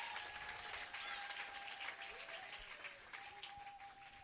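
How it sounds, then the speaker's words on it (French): A church congregation applauds loudly and steadily during a Sunday service in a dense, sustained wash of clapping with no talk over it. "Est-ce qu'on peut acclamer très fort?"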